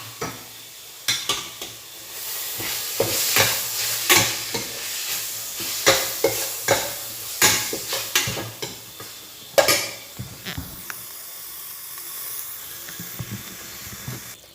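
Grated beetroot being stirred into a vegetable cutlet mixture: a steady run of close, moist scraping strokes in a fairly even rhythm, with no talking.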